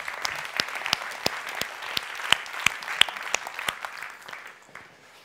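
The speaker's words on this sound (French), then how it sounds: "On peut l'applaudir, merci." Audience applause at a corporate talk event. Sharp, distinct hand claps sound fairly close over a steady clapping wash, then taper off toward the end.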